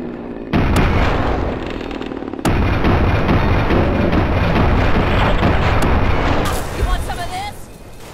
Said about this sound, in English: I'm pretty sure I'm shooting.